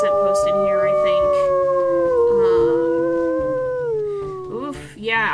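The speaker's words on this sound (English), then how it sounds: "We'll do some howling." Wolves howl in the video game WolfQuest, with several long, overlapping howls that slowly fall in pitch and stay loud and near, ending in shorter yips.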